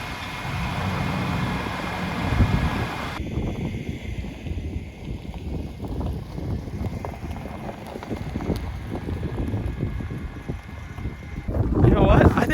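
Gusting wind at an exposed outdoor campsite by a camper van, a steady rushing roar buffeting the microphone throughout, swelling louder near the end with no talk over it.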